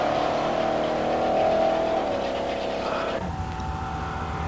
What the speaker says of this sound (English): John Chamberlain's Big Bad Grand Sport takes a solo by run and blazes all out toward the big end